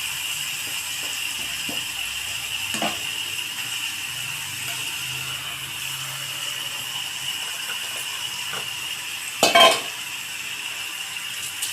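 Pickle ingredients tipped into hot oil tempering, a steady close sizzle with occasional light metal clinks and one sharp scrape near the end, no voices.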